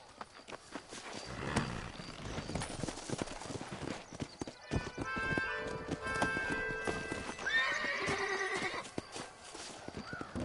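Horse hooves clip-clop at a walking pace in the video game Red Dead Redemption, joined by a whinny and some harness jingling, with music-like tones in the middle.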